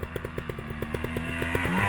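A Gas Gas TXT 280 racing trial motorcycle revs up with a rapid, pulsing two-stroke engine note that climbs steadily in pitch and loudness, close by and without talk.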